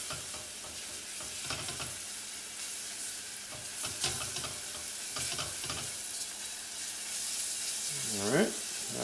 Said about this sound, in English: let's go ahead and put our garlic in. And the oil's not hot, it's just warm right now